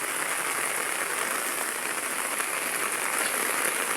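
Continuous heavy rainfall on a village pond where children bathe, a uniform, enveloping patter-hiss that holds steady throughout without clear voices or splashes.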